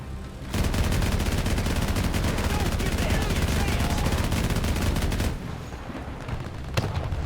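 Men of War 2 gameplay produces about five seconds of dense, rapid machine-gun and rifle fire, loud and continuous, which then drops to quieter scattered shots.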